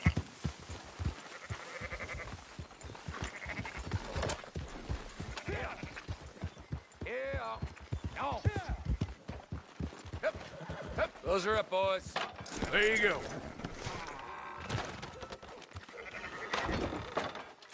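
Sheep bleat repeatedly in the Red Dead Redemption 2 video game, with hoof clip-clops and a voice talking over the flock.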